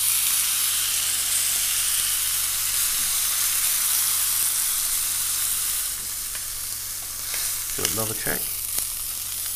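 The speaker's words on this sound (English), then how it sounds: "Another little sear on its skin. On its fatty edge." Steak sears in a hot pan with a loud, steady sizzle and hiss up close, easing slightly toward the end as a voice speaks briefly over it.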